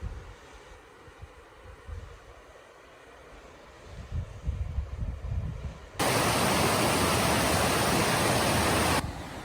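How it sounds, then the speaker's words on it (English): A small waterfall flows along a Pacific Crest Trail stretch in the Sierras, a steady broadband rush that starts soft and distant, grows louder, then jumps to a loud close wash for several seconds before dropping back. "It's a nice little waterfall."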